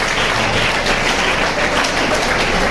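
Schoolchildren at a Gita class clapping their hands together, a dense, even wash of applause from a group that holds steady and fairly loud for a few seconds.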